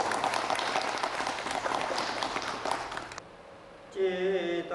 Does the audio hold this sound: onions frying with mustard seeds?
no